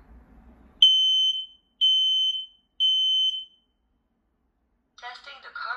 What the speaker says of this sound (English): Testing the smoke sensor.